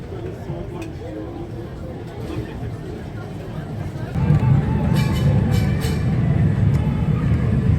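A tram in Istanbul rumbles steadily at close range, its low hum swelling louder partway through, with scattered higher clanks and street hubbub around it.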